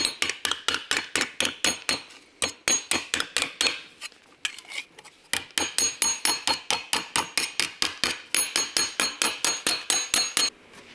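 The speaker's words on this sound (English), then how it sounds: "We could use the hammer to pull it around a little bit." Rapid, regular metallic hammer blows ring out close by on sheet metal for a patch on a Talbot Sunbeam Lotus, a long steady series of sharp clanging strikes with a brief pause midway.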